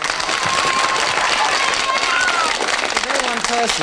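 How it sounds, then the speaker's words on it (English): Studio audience at a 1973 television interview applauding for Dennis Law, a dense, steady wash of clapping that fills the stretch, with voices and a few whistles or cheers rising over it. "Round of applause for Dennis Law"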